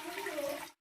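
Water pours steadily into a cooking pot, a brief close splashing rush that cuts off abruptly, as it is added with oil for boiling chicken spaghetti in a home kitchen.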